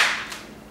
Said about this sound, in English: You don't want to tilt your rain stick too fast or it'll sound like this.